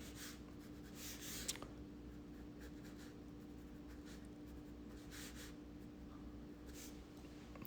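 A pencil scratches across paper while a British bulldog is drawn, in soft, quiet strokes of varying length with brief pauses, close and alone.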